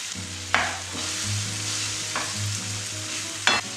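Meat sizzles steadily in a pan with onion and crushed garlic, a continuous frying hiss broken by three sharp stirring scrapes, close and without speech.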